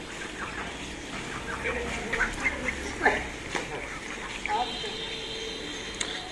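Ducks wandering through a city neighborhood give several short quacks scattered over a few seconds, mid-distance and fairly soft, mixed with outdoor background noise and some nearby talking.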